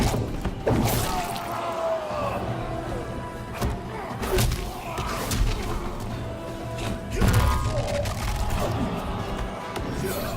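Repeated heavy thuds, whacks and crashing impacts in Mortal Kombat 11 as Scorpion fights Baraka, with irregular blows landing among game effects and a voice talking over the action.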